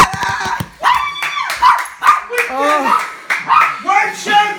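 A dog barks and yips excitedly amid a family's loud cheering during the final minutes of Super Bowl 52, the short barks scattered under overlapping voices and clapping.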